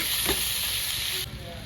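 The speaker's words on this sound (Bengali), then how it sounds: "আমি কুচি করে কেটে রাখা পেঁয়াজটা দিয়ে দেবো। পেঁয়াজটা একটু লাল লাল করে ভেজে নেব।" Chopped onions fry in a pan for an egg curry, giving a loud, close, steady sizzle and hiss that eases slightly near the end.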